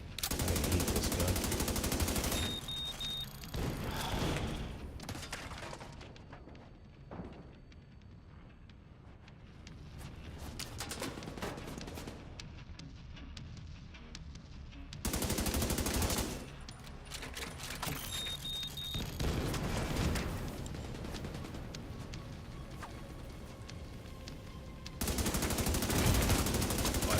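Video game gunfire comes in long, loud bursts of rapid machine-gun shots with short quiet gaps between them, set against a low background rumble.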